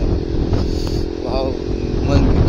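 Bajaj NS200 motorcycle fitted with an exhaust that has no dB killer, its engine idling and rumbling loudly and roughly up close throughout, with someone talking over it.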